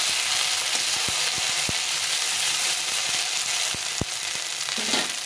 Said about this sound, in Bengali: এই আদা আর রসুনটা একটু ভাজা ভাজা হয়ে গেছে।